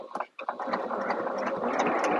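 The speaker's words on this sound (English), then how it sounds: "you're going to sew along this folded edge with 1/8 of an inch seam allowance" A sewing machine runs along a folded fabric edge, starting with a few short stitching bursts and then a steady, continuous mechanical whir for the rest of the stretch.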